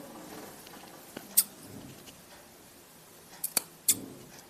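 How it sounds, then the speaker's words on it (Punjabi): Scissors snipping through fabric while making a pocket on a salwar, a few sharp isolated clicks near the start and a cluster of three close snips toward the end, close and clear over quiet room tone. "ਇਹਨੂੰ ਕੱਟ ਲੈਣਾ ਹੁਣ ਤੁਸੀਂ ਵਿੱਚੋਂ ਠੀਕ ਹੈ ਕੱਟ ਲਗਾ ਕੇ"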